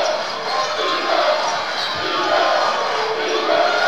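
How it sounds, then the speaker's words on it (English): Basketball arena crowd in Sioux Falls during a Summit League Championship game, a steady loud roar of many voices and cheering throughout, with a rising swell near the end. "Great crowd here in Sioux Falls."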